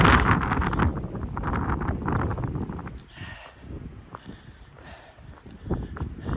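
Wind blows outdoors on a hiking trail. It rumbles loudly against the microphone at first, then drops to lighter gusts with scattered rustling.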